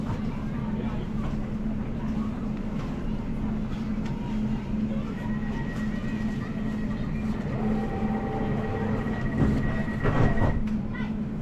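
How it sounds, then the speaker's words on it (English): A London Overground train runs between St James Street and Walthamstow Central, its steady low rumble and hum continuing throughout with a faint high tone partway through and a brief louder clatter near the end. "This is the train to Chingford."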